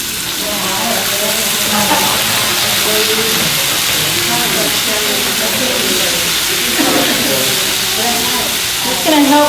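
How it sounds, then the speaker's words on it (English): Vegetables stir frying and steaming in a pan, with a steady broadband sizzle and hiss running throughout, close and fairly loud, while people talk faintly underneath. "It's going to help continue by way of stir frying and steaming the vegetables, especially the thicker ones."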